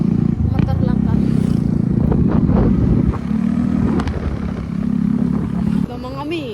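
A motorcycle underway on a provincial road, its steady engine drone with rising and falling pitch and buffeting wind running loudly and continuously throughout.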